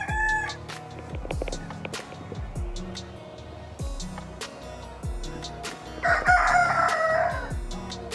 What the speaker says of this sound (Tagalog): maririnig mo yung mga tilaok ng manok, meron din dito